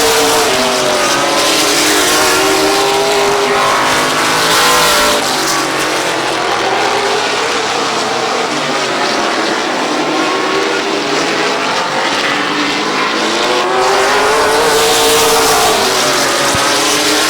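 Race cars roar along the back straightaway into turn three at Midvale Speedway, a dense, continuous engine drone with rising and falling pitch as cars pass, loud and sustained throughout with no talk.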